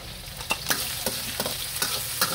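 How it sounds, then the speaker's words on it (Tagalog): Garlic, white and red onions and leeks sauté in a pan for mechado, a steady sizzle broken by sharp scraping strokes of a spatula every half second or so, close and moderately loud. "dito na rin tayo magigisa. Bawang, sibuyas na puti, sibuyas na pula at onion leeks."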